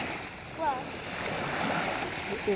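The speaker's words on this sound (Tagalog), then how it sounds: "Kusog ang bawod kay siguro dili nindot na panahon." Strong sea waves at high tide during stormy weather, a steady rushing wash of surf, with a brief splash near the end and a voice faintly heard.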